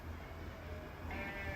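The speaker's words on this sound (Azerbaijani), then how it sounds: "Təmiz beyləqan cinsi qoyunların balasıdır." Young lambs of the Beylagan sheep breed bleat faintly on a farm, with a soft cry that rises near the end over low background noise.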